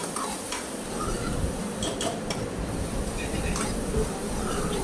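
Onions and spices for a Tamil vanjaram fish curry sizzle and are stirred in a pan, with soft scraping and occasional clinks of a utensil against metal, close by and steady.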